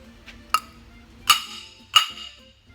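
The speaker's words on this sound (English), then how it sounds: "just take a hammer" Hammer tapping on a Model A Ford fan to loosen it from its shaft taper: three sharp metallic taps with ringing decay, spaced irregularly in a quiet workshop.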